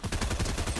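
Fast automatic gunfire in Fortnite, a dense burst of rapid shots lasting under a second, loud and up close with no speech.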